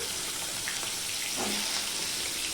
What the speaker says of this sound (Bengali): এবার আমি সবার প্রথমে পটলগুলো ভেজে নেব